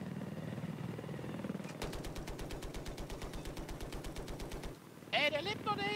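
Rapid automatic gunfire rattles steadily for about three seconds over a low helicopter rotor drone in a Battlefield 4 Conquest battle on the Shanghai map, then cuts off before a brief high-pitched burst of game sound.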